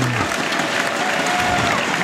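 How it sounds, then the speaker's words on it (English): A loud crowd applauds at the Brunswick Euro Challenge 2012 stepladder bowling finals, with dense sustained clapping filling the hall and a hint of crowd noise beneath it. "Big round of applause for Mika and his first strike also on lane 15."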